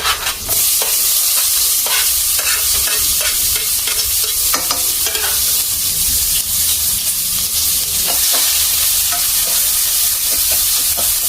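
Chopped onion and coriander paste sautéing in a hot pan, with a loud, close hiss of frying and frequent sharp spatula scrapes as the mixture is stirred continuously.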